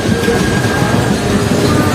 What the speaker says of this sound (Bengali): আর পাশ দিয়ে ট্রেন যাচ্ছে